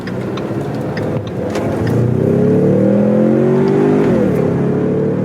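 A Ford Mustang with a small four-cylinder engine and automatic transmission accelerates hard, its engine note climbing loud and steady for several seconds before a brief shift dip, heard close and without talk.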